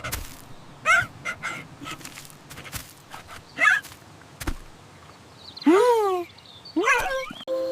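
A cartoon dog in a 3D animation gives several short yips and barks, scattered and fairly close, with a couple of whining, rising calls near the end.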